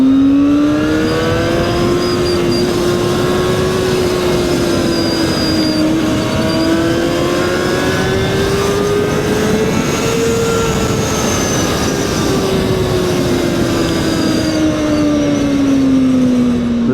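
A 2025 KOVE 450RR motorcycle engine screams at high revs, a loud steady whine that climbs and dips in pitch through gear changes, close and continuous with no talk.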